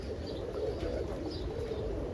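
Roller pigeons coo softly in a loft, low, muffled burbling calls over a steady background hum, faint and continuous.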